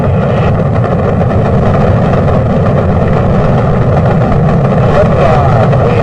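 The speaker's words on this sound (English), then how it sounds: "Liftoff on Apollo 11." Apollo 11 rocket engines roar at liftoff as a dense, loud, continuous rumble with a heavy low end, unbroken for several seconds.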